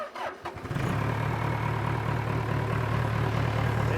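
An old abandoned tractor's small engine cranks with a few rough turns, then catches and settles into a steady, loud, droning idle.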